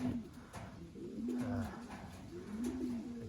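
A racing pigeon cock bird coos close by, low repeated throaty calls in a soft rhythmic series, with faint background noise.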